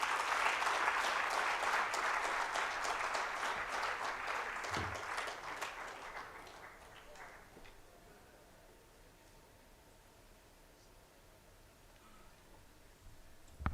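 Audience applause after a statistics presentation at a live-streamed press event, starting dense and steady, then thinning to scattered claps and fading out around the middle, leaving quiet room tone.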